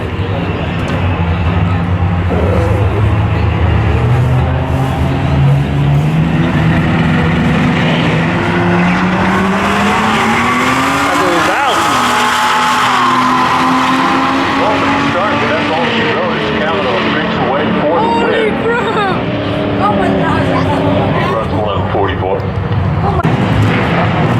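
An old-school Toyota Supra and a Corvette drag race at Raceway Park, Englishtown, engines roaring continuously and loudly as revs climb and shift, with an announcer talking over the noise.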